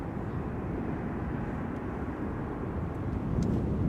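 A Qatar Cargo Boeing 777 freighter taxis at Schiphol Airport, its engines a steady, broad low roar that holds evenly throughout with a slight swell near the end, with no voices over it.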